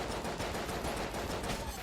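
Rapid, dense bursts of gunfire from the Enter the Gungeon video game, a continuous rattling volley at moderate level with no talk.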